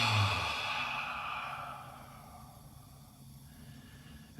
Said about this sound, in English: as we breathe in through the nose